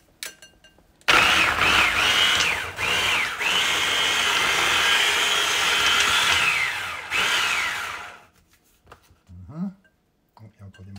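An electric chopper whirs loudly in bursts while chopping onions for a Basque chicken dish, pitch dipping as it bites, then stopping; a person talks faintly afterward.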